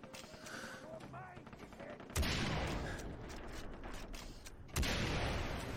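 Gunfire in the video game Far Cry 3 comes as bursts of loud rapid shots. Two sharp heavy blasts cut in partway through, over mechanical creaks and game background noise.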